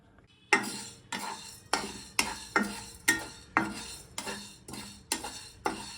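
Fenugreek seeds dry-roasting in a pan for green chilli pickle, stirred with a spoon: about ten sharp, rhythmic scrapes and clinks of the spoon against the pan, close and fairly loud, with no voices.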